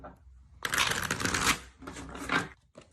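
Tarot cards are shuffled for a predictive reading, with a couple of quick close riffling bursts of papery flutter and a final short flick, quiet and without talk.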